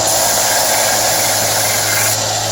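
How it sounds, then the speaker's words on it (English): A small electric sander runs steadily at close range while smoothing a turned wooden snowman, giving a constant whirring drone with a faint hum, and no voices are heard over it. "we're over here to the little sander. I'll turn it on, and what I do is I'll just hit this real lightly."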